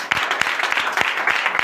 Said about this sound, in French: pourquoi ne pas te lever et donner de vives acclamations à mon Seigneur?